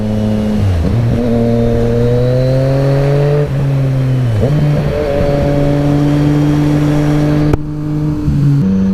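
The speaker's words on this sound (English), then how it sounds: "when you are accelerating hard with this bike and using the quick shifter at high revs" A Yamaha MT-09 SP three-cylinder motorcycle accelerates hard, its engine note climbing loud and close through repeated rising revs, with quick-shifter gear changes cutting in sharply between pulls.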